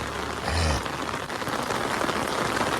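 Steady rain pours down in a dense, continuous hiss, with a brief low rumble early on and no voices.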